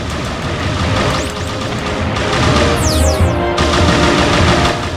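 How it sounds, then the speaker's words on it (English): Rapid bursts of hyper laser fire from the player's ship in the Star Fox Adventures video game, loud and continuous with sweeping electronic zaps layered over dense rattling shots, no talking. "I just love shooting the hyper laser. I love the noise it makes."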